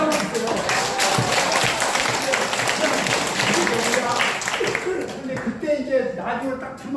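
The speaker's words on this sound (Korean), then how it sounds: "박수 한번 주세요." Applause from an audience of elderly attendees at a lecture on folk songs and taxes, a dense patter of clapping that fades after about five seconds into a speaking voice.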